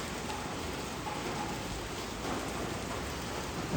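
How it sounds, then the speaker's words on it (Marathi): Heavy rain pours steadily outside a bedroom balcony under a clear sky, a dense, unbroken hiss of close drops filling the whole stretch with no pauses. "एकदम जोराचा पाऊस आहे"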